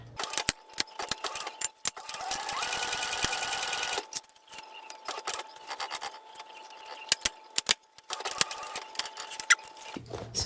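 A sewing machine makes a fast burst of back stitching, a dense, close whirring run of about two seconds. Clicks, taps and short stitch bursts follow, with faint handling noise in between.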